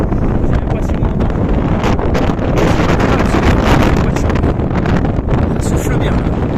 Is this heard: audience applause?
no